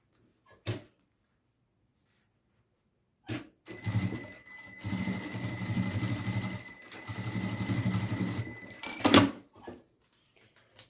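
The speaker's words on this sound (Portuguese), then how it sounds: "agora eu vou passar uma costurinha aqui pra unir tudo, pra fechar" A sewing machine stitches fabric closed on a small rounded pouch, running in a few close bursts of whirring motor hum between clicks and handling sounds, with quiet gaps and no speech.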